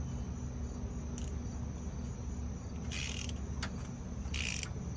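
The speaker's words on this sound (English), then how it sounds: "All right, so I got my handy dandy wrench here, and we're going to" A ratchet wrench loosens a bolt on the AC compressor of a second-generation Honda Insight hybrid, giving three short bursts of quick metallic clicking over a steady background hum.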